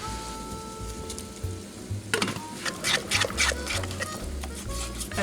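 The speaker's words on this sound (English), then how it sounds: "I'm gonna go ahead and drain the pasta." Cooked pasta drained in a home kitchen, a rushing, splashing pour of water starting about two seconds in and continuing as an irregular crackling spatter over a low background hum.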